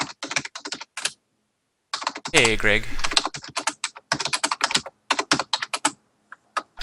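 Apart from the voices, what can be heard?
typing on computer keyboard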